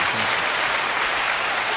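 A dense round of applause for a guest on a talk show, loud and steady clapping filling the whole stretch with no gaps.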